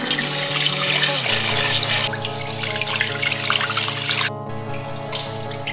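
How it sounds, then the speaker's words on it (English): Rice washed and strained with water in a kitchen, heard as a steady rush of running, splashing water over a sustained tonal musical background, easing off slightly toward the end. "Notice how when I strain that water, a bunch of the starch that was on that rice comes off in the water"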